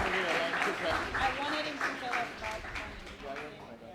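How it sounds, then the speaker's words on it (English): Applause from an audience at a mobile banking services launch event in Sierra Leone, moderate clapping mixed with voices and crowd murmur, fading slightly toward the end. "Let's give that a round of applause, please."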